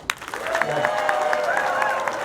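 Comedy club audience clapping in response to a comedian, a steady burst of many hands with scattered whoops and a few voices mixed in.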